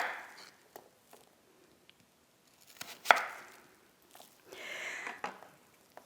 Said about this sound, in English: Cutting food into cubes like this is called kkakdugi in Korean.